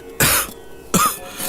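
A person coughs twice, each a harsh, loud burst separated by a short pause, close by with no talking.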